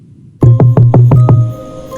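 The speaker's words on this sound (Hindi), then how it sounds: "वही दस्तक।" Six quick, loud knocks on a door as a horror story sound effect, close and evenly spaced, each with a resonant ring that fades after the last.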